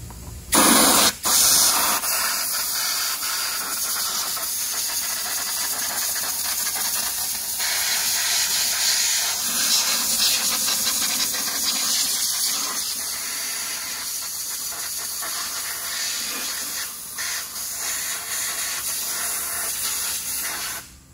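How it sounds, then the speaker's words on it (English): A loud, continuous spray of brake cleaner hisses almost nonstop for about twenty seconds, with a few short bursts and pauses near the start and end. "So I'm about to spray it with some brake cleaner and blow it"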